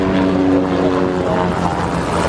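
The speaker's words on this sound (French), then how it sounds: "Le Bel est un hélicoptère dédié au transport VIP." Bell VIP transport helicopter flying over an independence anniversary parade: a loud, steady rotor and engine drone with a throbbing low hum, continuous throughout and close overhead.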